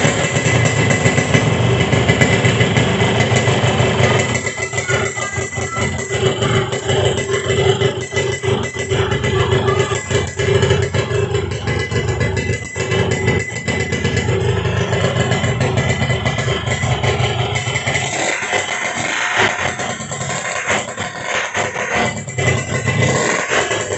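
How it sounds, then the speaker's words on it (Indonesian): A 1999 Yamaha RX King motorcycle engine idles close by, a steady, continuous mid-pitched two-stroke drone with rattling clatter, holding an even level throughout with slight variation near the end. "Saatnya untuk mendengar suara mesin motor ini."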